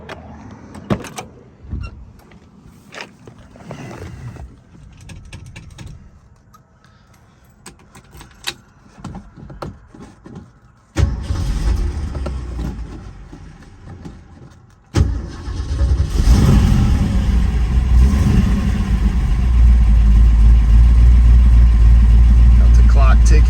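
A 1968 Shelby GT500KR with a 428 Cobra Jet V8 and four-speed: after keys jangle and people talk nearby, the engine cranks, catches and settles into a loud, heavy rumbling idle that fills the last several seconds.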